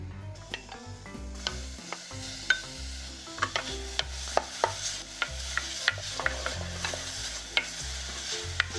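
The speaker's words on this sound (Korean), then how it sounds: "여기에 표고버섯과 소고기를 넣고 볶아주세요." Shiitake mushrooms and beef stir-fry in a pot with a little sesame oil for Korean rice porridge, a soft steady sizzle under repeated clicks and scrapes of a spoon stirring, close and moderately quiet, no voices.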